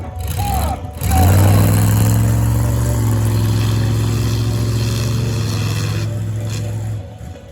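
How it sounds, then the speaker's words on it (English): Trucks revving hard in a drag race at a country fair, a loud sustained engine roar that builds after a brief pause and holds steady before cutting off, with crowd noise faintly underneath. "Big Pete, the heavier of the two trucks, wins the drag race."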